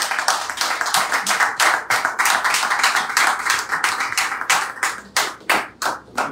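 A church congregation claps steadily for several seconds at a French-language service, the applause dense and close at first, then thinning into a few slower, distinct claps.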